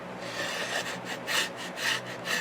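An old wooden frame is scraped clean with a tool, producing rhythmic rasping strokes, about five back-and-forth scrapes in steady succession, close and moderately loud.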